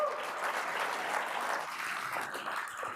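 An audience at a live business event claps together in a full, dense round of applause that holds steady and then thins slightly near the end.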